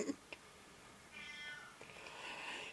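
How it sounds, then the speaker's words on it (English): A house cat meows indoors, a short call near the start followed by softer sounds, over a quiet room with faint background noise. "So he's telling the cat to be quiet now."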